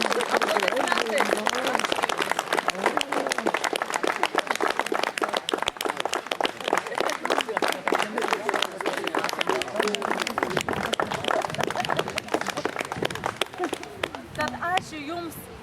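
Audience applause at an outdoor festival event in the rain, sustained dense clapping with rapid individual claps, fairly loud and close, with voices mixed in throughout.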